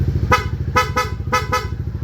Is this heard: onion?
no